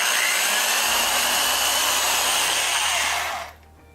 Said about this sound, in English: I'm going to drill my pilot hole.